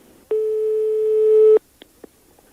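A single telephone line tone sounds after a call is hung up, one steady electronic beep of just over a second, followed by a couple of faint clicks on the quiet line.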